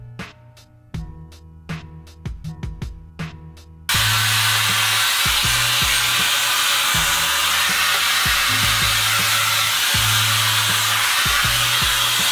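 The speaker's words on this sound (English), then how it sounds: "I do diffuse on high." Hair dryer with a diffuser running on high while styling low porosity 4b/4c hair, a loud continuous blowing roar that kicks in after a few seconds of softer handling knocks and clatter.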